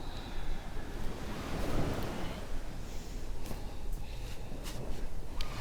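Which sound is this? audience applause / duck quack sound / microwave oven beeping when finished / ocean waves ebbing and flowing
ocean waves ebbing and flowing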